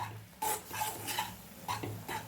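Jowar flour upma being stirred in a pan over low heat, with a few distinct scraping strokes of a spoon against the pan, quiet and close with short pauses between them.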